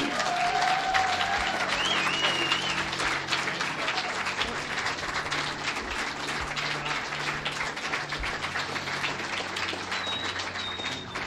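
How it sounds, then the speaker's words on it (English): Sustained applause from a large crowd, dense and steady clapping that fills the whole stretch without a break, with faint crowd noise underneath. "Can you please applaud these men?"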